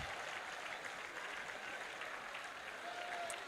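Audience applause at an alumni association plenary meeting, soft continuous clapping from a room full of people for about three and a half seconds, ending with a sudden loud bump.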